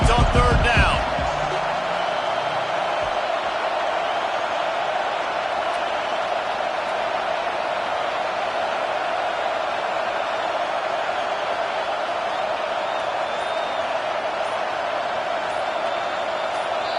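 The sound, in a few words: football stadium crowd noise in NCAA video game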